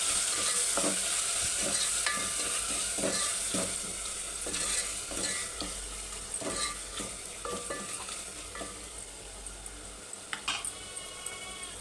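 Freshly pounded ginger garlic paste sizzles in a pan for a mutton curry, a busy, crackling fry that runs throughout with frequent scraping stirs and light clinks of utensil on metal, gradually settling a little quieter.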